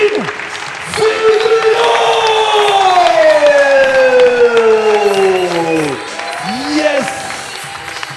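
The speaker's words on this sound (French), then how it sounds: "Applaudissez, applaudissez pour Sandrine" Festival crowd in Bujumbura, Burundi, cheering and applauding a performer, with a loud voice shouting over the noise and a sliding, wailing electronic tone running through much of it.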